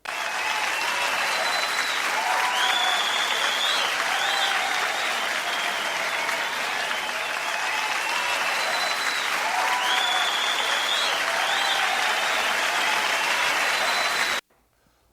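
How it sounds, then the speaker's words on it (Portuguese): Sustained applause from a crowd, steady and dense for about fourteen seconds, then stopping abruptly into near silence. "merece os aplausos da galera"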